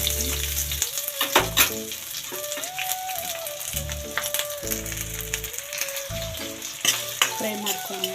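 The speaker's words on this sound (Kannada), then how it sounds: "ಲೋ ಫ್ಲೇಮಲ್ಲೇ ಇಟ್ಕೊಂಡು ನಿಧಾನವಾಗಿ ಫ್ರೈ ಮಾಡ್ಕೊಂಡು" Onions frying slowly in oil over a low flame for a green chicken sambar, a steady soft sizzle broken by repeated stirring scrapes and clinks, with a faint tonal background running throughout.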